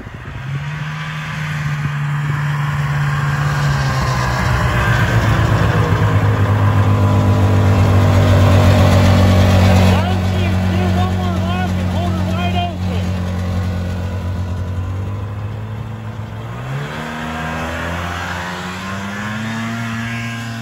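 Engine of an old Kawasaki 440 snowmobile drones steadily and loud throughout, its pitch shifting as it revs, with voices talking over the running motor.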